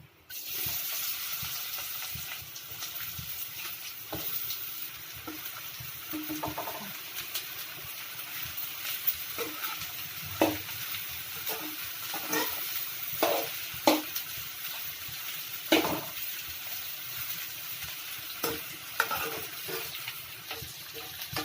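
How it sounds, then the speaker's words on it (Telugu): Long-cut spiny gourd pieces frying in about four tablespoons of oil, a steady soft sizzle broken by scattered clicks and light stirring taps, close and fairly quiet. "ఇప్పుడు క్లీన్ చేసుకున్న ఆకాకరకాయలను పొడవుగా కట్ చేసుకుని ఆయిల్లో వేసుకోవాలి"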